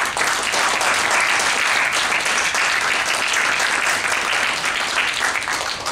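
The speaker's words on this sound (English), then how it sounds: "if you can join with me in giving both everyone involved in the Bus Alliance, but everyone also on the transport network over the weekend of the Giants, a big round of applause" Sustained round of applause from attendees at a transport committee meeting, steady and fairly loud clapping filling the room for six seconds without a break.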